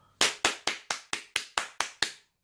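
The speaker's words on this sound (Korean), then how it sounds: "박수 한번 쳐드리겠습니다." Nine sharp, evenly spaced hand claps ring out alone in a quiet room, each with a short decaying tail, offered as thanks to a subscriber for a donated cooler.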